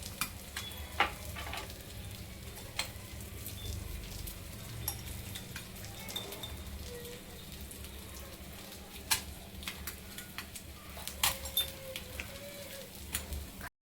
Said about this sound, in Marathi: त्याच तव्यामध्ये आपण या अंड्याचं काप करून थोडंसं तेल ओतून पालती टाकली आणि त्याला थोडी हळद टाकायची.